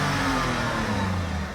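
A 2003 Porsche Boxster S on its stock exhaust revs up close, a loud continuous engine note that rises and settles without any talk.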